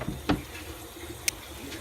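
Steady wash of water running from a tap into a newly plumbed kitchen sink, with a couple of brief clicks and knocks over the continuous flow.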